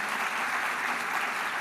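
A conference audience claps for a panel at a plenary event, with thick, continuous applause filling the whole moment at an even level.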